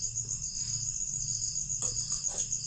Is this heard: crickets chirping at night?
yes